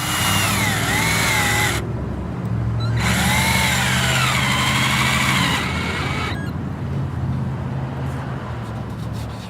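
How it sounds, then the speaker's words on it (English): A power drill drives screws down into a decking board on a rim joist, with two long whining bursts whose pitch sags as each screw seats, then a quieter tail of background noise. "I'm going to drive screws like this right down the center of the board, and they should drop right into my rim joist"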